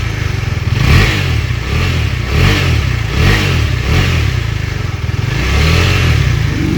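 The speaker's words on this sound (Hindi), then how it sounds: "तो ड्यूक 390 की जो एग्जॉस्ट साउंड है वो कुछ ऐसी है।" A KTM Duke 390 BS6 single-cylinder motorcycle revs repeatedly at close range, its exhaust rising and falling in several throttle blips over a steady, loud idle.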